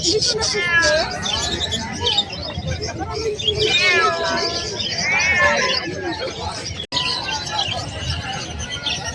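Bengal cats meow repeatedly at a busy pet market in Malabon, with birds chirping and crowd chatter around them as people talk nearby.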